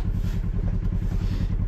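A dirt bike engine runs on snow at Millville, a loud, close, low throbbing motor with a steady rapid pulse and slight rough clatter, held at a fairly constant pace.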